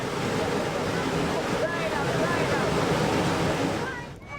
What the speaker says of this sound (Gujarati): સૌરાષ્ટ્રની જીવાદોરી સમાન ભાદર ડેમ છલકાઈ ગયો છે